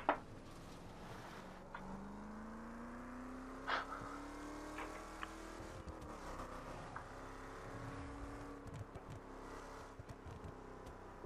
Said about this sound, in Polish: Uwielbiam ten odgłos, jak odpuszczasz gaz.